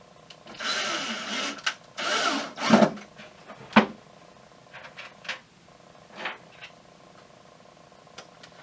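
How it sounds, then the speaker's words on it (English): A power drill drives screws into 3/4-inch plywood while a pump is mounted: two loud whirring bursts are followed by a few shorter clicks and brief buzzes, all up close. "And I'm going to put two screws in."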